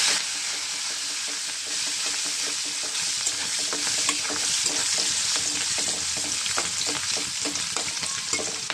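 Shrimp frying in a pan with salt and turmeric, giving a steady, dense sizzle with scattered crackles and soft stirring scrapes, close and continuous with no voices.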